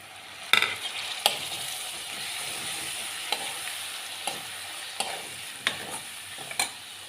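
Onions and tomatoes sautéing in a pan for Kathiyawadi-style dal bati, a steady sizzle broken by sharp spoon clacks against the pan every second or so, no talking.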